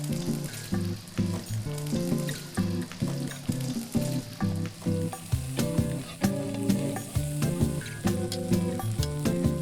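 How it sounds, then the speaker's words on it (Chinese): Beaten eggs, two of them, stir-fried in a hot oiled wok, a steady loud sizzle with rhythmic spatula scraping and stirring strokes over background music. "可2个鸡蛋打散， 另起油锅，倒进去炒碎。"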